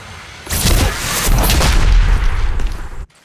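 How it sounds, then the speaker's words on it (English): In Apex Legends Mobile, a loud, dense burst of gunfire and booming impacts lasts about two and a half seconds after a brief quiet start, then cuts off abruptly. "Opening fire."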